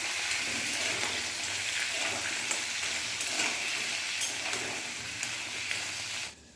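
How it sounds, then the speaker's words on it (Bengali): Sea crabs fry in hot oil in a village-style kitchen, a steady close sizzle with crackling pops that holds evenly throughout before cutting off at the very end, with no talking. "এবার কাঁকড়াগুলো তেলের মধ্যে দিয়ে ভালো করে ভেজে নিচ্ছি"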